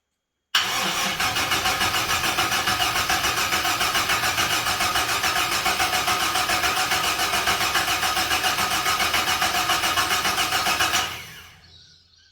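A rebuilt Ecotec car engine cranks continuously for about ten seconds with a fast, rhythmic churning, never catching, then winds down to silence.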